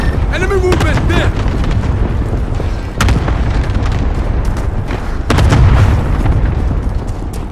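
Cluster strike explosions in the Call of Duty: Modern Warfare video game, a loud rolling barrage of heavy booms with sharp bursts around three and five seconds, mixed with game voice chatter and effects.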